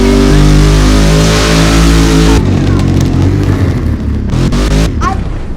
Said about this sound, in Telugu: అది కొత్త కార్ బుగాటి.